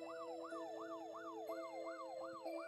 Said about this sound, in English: I mean, the siren's going off,